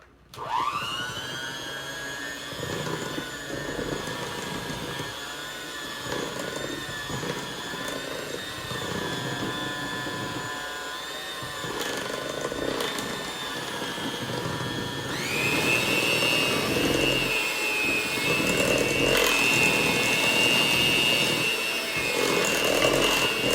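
Electric mixer beating holiday drop cookie dough as flour and baking soda are added after buttermilk, a steady loud motor whine that runs throughout, rising in pitch and intensity partway through.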